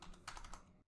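Quick burst of typing on a computer keyboard, several close, crisp key clicks packed into under a second before stopping abruptly.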